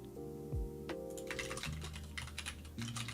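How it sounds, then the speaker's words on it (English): Rapid clicking keystrokes on a computer keyboard during live game development, a quick irregular patter of close taps running through the whole stretch. "Oh, Godot, with your typing."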